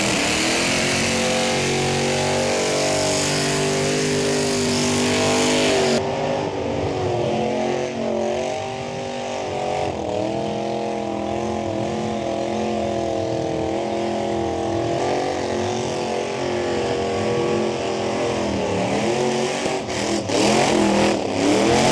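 A burnout car on the pad at Summernats, fitted with burnout wheels, roars loud and close with a sustained high-revving engine and screaming tyres, the note rising and falling in long surges without a break for the whole stretch.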